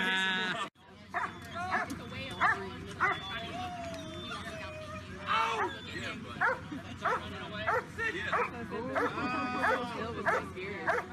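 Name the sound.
dog barking, probably a German Shepherd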